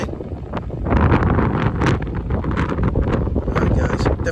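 Strong wind buffets the microphone at a hillside viewpoint overlooking a farm, a loud, continuous rushing roar with gusty swells throughout.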